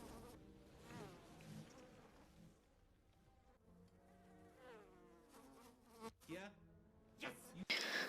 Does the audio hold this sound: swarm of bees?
yes